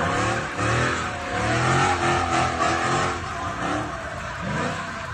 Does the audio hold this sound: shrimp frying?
no